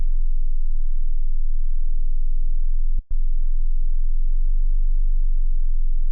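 A steady low sine test tone near 20 hertz played through headphones, a continuous deep hum holding at even loudness with one brief dropout midway, no talking.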